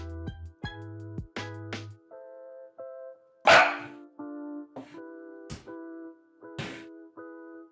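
A puppy barks close by in a series of sharp yips and harmonic bow-wows, with short pauses between bursts and one louder bark near the middle.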